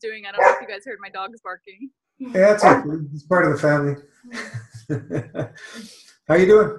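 Household dogs bark and yip in the background of a home Zoom call, mixed in with ongoing close conversation from several people.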